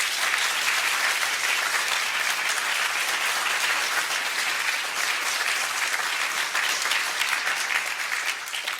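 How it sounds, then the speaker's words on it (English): Audience applause for the Heaney family at a lecture, steady and full throughout, a large room of clapping hands with no voices standing out. "whenever you clap for the Heaney family"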